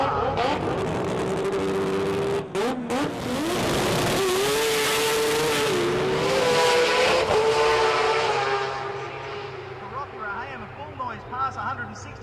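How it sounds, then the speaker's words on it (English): A rotary-powered Mazda 6 race car on a three-quarter chassis screams down a drag strip on a world record pass, its loud high-pitched engine rising through the gears, then fading as the run ends. "After this run, it would become the fastest rotary powered vehicle anywhere in the world."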